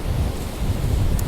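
Strong February wind blows across Rossall Beach on the Fylde Coast as a steady, low rushing buffet against the microphone, with faint surf-like noise beneath and no voices.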